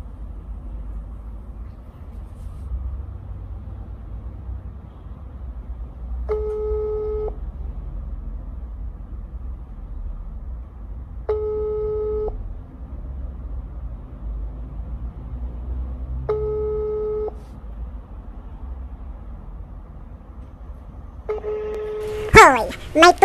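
Telephone ringback tone during a prank phone call, four evenly spaced electronic ring bursts over a steady background hum, with a few sharp clicks and noise at the end.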